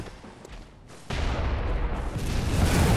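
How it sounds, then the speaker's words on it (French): Portable cannon firing in the video game Bloodborne, a sudden heavy boom after a quiet moment, followed by a sustained loud rumbling roar that swells toward the end. "C'est vraiment un canon portatif le bordel."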